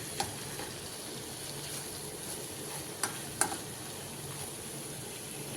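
Ginger, garlic and cumin frying in a pan for a Telugu coconut-milk mutton curry, a steady soft sizzle running throughout with a few sharp clinks of a stirring spoon against the pan.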